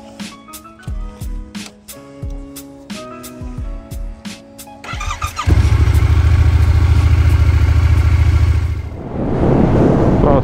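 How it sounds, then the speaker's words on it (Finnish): Yamaha R7 motorcycle on a spring group ride in Finland, first ticking and clicking at rest, then a loud, close engine roar as it rides off, steady and then rising again at the end. "lähdetään R7 ajelemaan"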